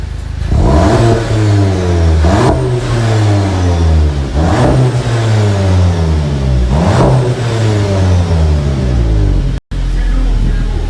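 Car accelerating hard in sport mode while overtaking, the engine roaring loud and close through several rising revs, each cut by a quick gear change, with voices talking over it.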